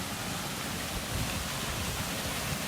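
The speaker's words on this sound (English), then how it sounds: "Oh yeah, that's a waterfall," A waterfall beside the Hakarimata walkway gives off a steady, dense roar of rushing water, unbroken and fairly loud throughout.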